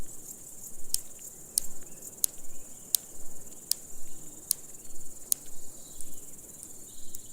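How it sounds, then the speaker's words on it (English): Song of a large marsh grasshopper, sharp ticking snaps made by its hind legs, repeated at a regular rhythm of roughly one per second over a soft, faint background hiss. "Large marsh grasshoppers are easily recognisable by their song, which is produced by a rhythmic snapping of their hind legs."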